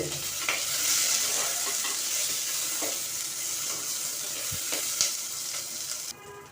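Chopped onions sauté in a pan for a leaf kuzhambu, giving a steady bright sizzle with occasional scraping strokes of a stirring spoon, close and continuous until it thins out near the end.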